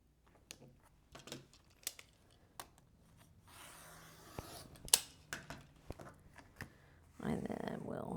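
Scissors or a cutter slice through a quilt block of fabric in short, crisp snips and rustles spaced across the moment, quiet and close, followed by a louder burst of fabric handling.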